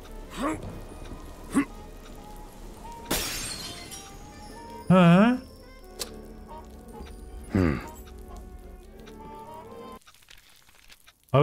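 Glass shattering in the 90s-style game Fallen Aces at a donut shop: a sharp crash of breaking glass sounds about a third of the way in, among scattered clicks and game noises, with someone speaking Turkish at intervals.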